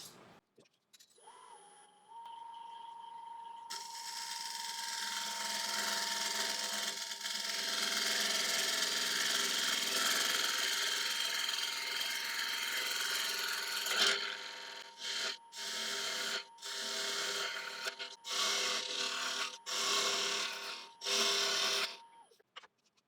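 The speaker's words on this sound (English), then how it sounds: "So now back to my little 1-inch scraper." Scraper held against a rotten log spinning on a wood lathe, a steady loud rasping scrape that runs continuously for several seconds, then breaks into short intermittent bursts of cutting with brief pauses between.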